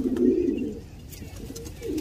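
High flyer pigeons cooing: soft, low, rolling coos that swell and fade over a faint background hiss, fairly close, with no voices.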